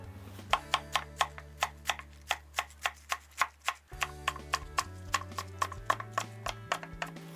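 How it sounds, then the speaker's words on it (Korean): A knife slices vegetables into thick slices (about 7–8 mm) on a cutting board beside sliced apple, giving a steady run of crisp, evenly spaced chops over a low tonal hum. "이렇게 해서 7, 8mm 두께로 썰어주면 됩니다"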